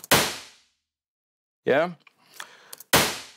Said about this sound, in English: once the felt plate is closer to the resonator plate, and obviously the reverb time is shorter because of that reason, it will sound something like this.